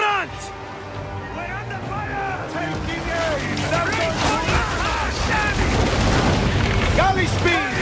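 Ship weapons fire in naval combat in Assassin's Creed Origins, booming over water and engine noise beneath shouted crew commands and chatter throughout.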